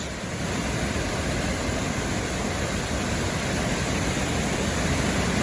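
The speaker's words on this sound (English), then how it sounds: "So fantastic, this waterfall." Lewis Falls waterfall pours with a steady, loud roar of rushing water, a dense unbroken wash of noise that holds constant from start to finish with no voices.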